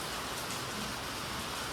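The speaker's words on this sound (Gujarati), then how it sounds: "અને કન્ટિન્યુ આવી રીતે વરસાદ ચાલુ છે." Steady, even rainfall hissing without a break, a dense wash of drops with no voices.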